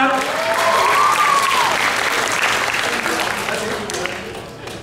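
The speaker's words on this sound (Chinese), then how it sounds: "请大家掌声欢迎他" Audience at a club anniversary celebration applauding as the next speaker is welcomed, a loud, sustained burst of clapping that slowly fades, with voices heard under it.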